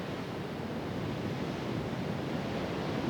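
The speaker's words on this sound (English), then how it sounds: "hopefully you can hear the crashing of the ocean as we do that" Ocean surf crashes and rolls in a steady, broad roar near the shore, continuous and unbroken, with some wind noise over the microphone.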